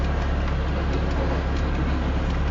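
A long freight stack train rolls past in the rain, its steady heavy rumble and rail noise continuous and loud throughout, with no pauses.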